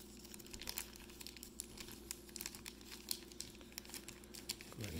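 A football trading card, a Saquon Barkley Prizm Draft Picks card, slides into a plastic sleeve with faint, close crinkling and light scratchy rustles throughout, ending in a slightly louder rustle.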